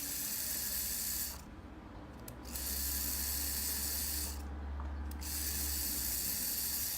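Rotary tattoo machine with a Mabuchi motor and nano cartridge running alone, a steady soft hum with a hissy high buzz that briefly drops in level twice.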